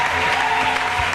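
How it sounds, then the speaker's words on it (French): A church congregation applauding at a worship service, a loud, dense burst of clapping that fills the short moment evenly. "Je veux qu'on acclame le Seigneur pour le groupe musical"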